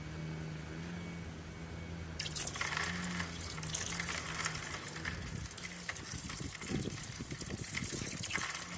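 Molten sterling silver poured into a bucket of ice water, giving a steady, close gushing hiss that swells loudly partway through and runs on continuously, with a low hum beneath.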